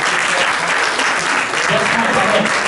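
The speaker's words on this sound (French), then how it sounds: "je demande encore un tonnerre d'applaudissements pour Franck et Yassin" A crowd applauds at a French association event, a dense, continuous roar of clapping that stays loud and even from start to finish.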